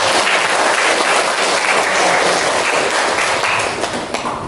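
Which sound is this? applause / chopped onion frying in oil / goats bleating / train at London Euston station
applause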